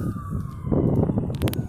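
An ambulance siren wails outdoors during a flood, its tone gliding downward as it passes, then fading into rumbling traffic noise with a few sharp knocks near the end.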